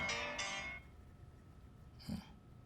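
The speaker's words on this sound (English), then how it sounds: "Didn't realize I had my phone on." A mobile phone rings during a quiet indoor interview, two bright, close ringtone bursts in quick succession that then cut off, followed by room hush and a brief low thump.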